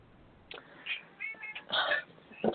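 A pet cat meows indoors, with a few faint, short calls that grow louder toward the end, each one heard alone and clearly.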